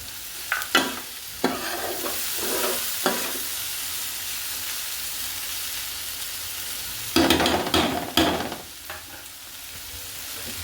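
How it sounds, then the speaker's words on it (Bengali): Mixed vegetables with egg, fried garlic and ginger being stirred in a hot pan: a steady sizzle broken by loud close scraping and clattering stirs near the start and again near the end. "রসুন ভাজা আর আদা ভাজাটাও দিয়ে দিলাম"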